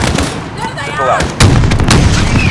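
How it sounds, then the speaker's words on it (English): Missile launch and heavy explosions in the video game Modern Warfare, a loud rumbling blast that swells into a sharper booming burst, close and dominant with radio chatter faintly underneath. "Missile out."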